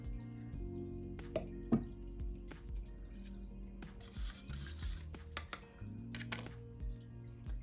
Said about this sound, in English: I'm just gonna pour the paint with the water into the globe